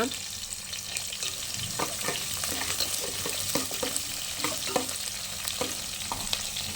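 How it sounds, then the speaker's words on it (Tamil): Onions frying in a pan with garlic and tomato for a dried-fish curry, a steady close sizzle with repeated scraping stirs and light clinks, no talk. "வெங்காயம் கொஞ்சம் நல்லா வணங்கினதுக்கப்புறம் பூண்டும் தக்காளியும் சேர்த்துக்கோங்க"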